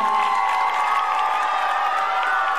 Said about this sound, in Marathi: सर्वांनी आपल्या मान्यवरांचे जोरात टाळ्या वाजवून आभार मानूया.